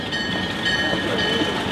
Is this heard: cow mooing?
no